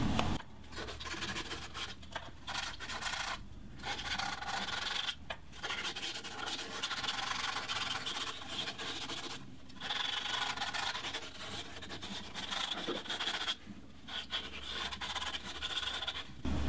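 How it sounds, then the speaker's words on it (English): Continuous rasping of sandpaper against walnut spinning on a lathe, steady friction noise broken by several short pauses, close and fairly loud with no talking. "I'm just gonna go ahead and finish sanding it"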